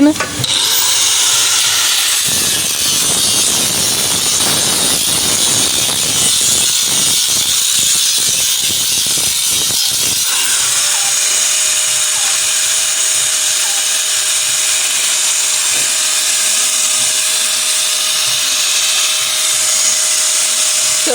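A hand-held grinder power tool runs continuously and loudly up close, a harsh steady whine with rattling grit through the middle section, and voices talk faintly underneath.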